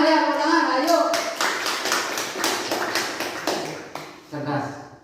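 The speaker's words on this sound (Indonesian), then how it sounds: "Tepuk tangan ya, tepuk tangan." Children in a classroom clap their hands in a quick burst of sharp, fairly close claps after a teacher's prompt, with a short trailing clap at the end and voices before and after.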